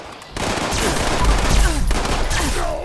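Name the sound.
Unknown Alien Blaster firing projectiles in Fallout 76 video game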